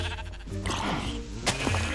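Sheep bleating in Minecraft, two short wavering bleats standing out over a steady background of game music and ambient noise, fairly close and clear.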